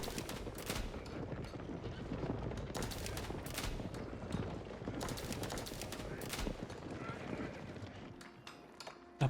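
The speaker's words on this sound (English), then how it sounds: "cannoneers just love to shoot anything" Cannoneers fire in the strategy game Age of Empires 4, a dense, continuous barrage of overlapping booms and bursts from a large battle, steady and loud throughout.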